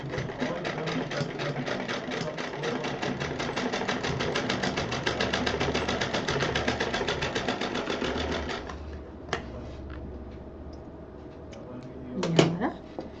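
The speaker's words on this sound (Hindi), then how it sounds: "अब इस पे एक मशीन और चला देते हैं" A sewing machine stitches a purse in a rapid, even run of needle strokes for several seconds, then stops, followed by a few clicks and a brief squeak.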